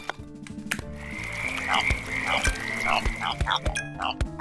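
Rhythmic croaking from a frog in the video game Pureya, sounding over a busy layer of game music and effects, with a few repeated calls spread through the passage.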